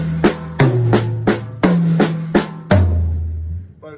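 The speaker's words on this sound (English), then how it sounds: "So if I were doing that all around the drums on toms" Drums played around the toms in alternating right-left sticking, with sharp strikes falling in quick groups of three and tom pitches stepping down, ringing close and loud before a final low tom decays alone.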